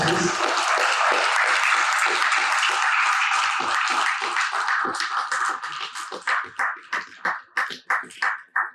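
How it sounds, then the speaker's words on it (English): A conference audience applauds as executives are called on stage, first a dense wash of clapping, then thinning into a few distinct, louder individual claps that fade out near the end. "Applause, please."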